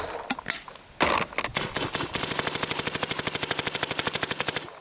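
Rifle shots ring out as a few spaced single cracks, then a rapid, evenly spaced string of sharp reports, loud and close with no talking.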